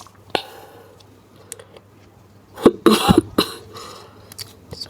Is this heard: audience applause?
no